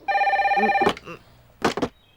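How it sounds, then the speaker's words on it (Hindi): A telephone bell rings briefly in one short trill, followed by a couple of quick bursts of voice. "जब भी इस फोन की घंटी बजती है"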